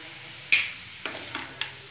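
Asafoetida goes into spices sizzling in oil under a soft, steady hiss, followed by a few light, close clicks and scrapes as the pan is stirred.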